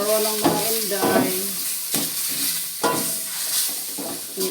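Beef tenderloin for caldereta sizzles loudly in a hot pan, the frying hiss broken by repeated stirring scrapes at roughly one-second intervals, with no talking.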